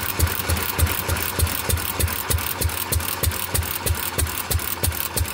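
A Fairbanks Morse 208 oilfield engine on temperamental gas, running unevenly with a loud, close, thumping beat that stumbles irregularly, and no one talking.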